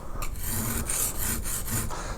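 A rounded bevel on a woodcarving skew chisel being sharpened, with a steady abrasive rasping of steel on a stone or strop. The strokes repeat at close range with short breaks between them, and there is no talk.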